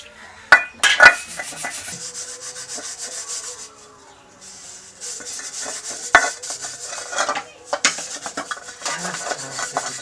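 Utensils are scrubbed and washed by hand, with steady rubbing and scraping strokes broken by a few sharp clinks and clatters of dishes, close and fairly loud, with no talk.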